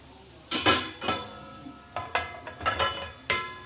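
A lid is set on a cooking pot of pointed gourd and potato sabzi, making several bright metallic clanks and rattles in short, uneven bursts, close and loud, with no talking.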